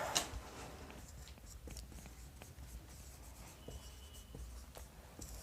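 Faint scratching of handwriting as math formulas for integration are written out, with soft strokes and light taps in a quiet room.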